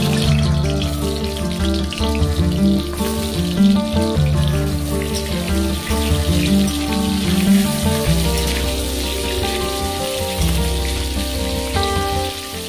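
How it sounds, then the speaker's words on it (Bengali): Cut pointed gourds fry in hot mustard oil in a pan, giving a steady, dense crackle and sizzle like rain on a surface, loud and close throughout, beneath soft background music, with no talking. "তেল গরম হয়ে গেছে, এখন পটলগুলো ভেজে নেব"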